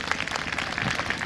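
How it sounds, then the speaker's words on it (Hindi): A congregation at a Hindi-language Christian gathering in Latehar claps loudly and densely in a brief, close burst of applause. "जोरदार ताली बजाइए परमेश्वर के लिए।"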